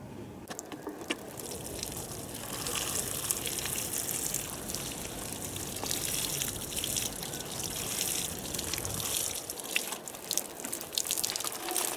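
Lukewarm water pours steadily onto container citrus trees, a continuous close splashing and trickling with a faint intermittent patter throughout.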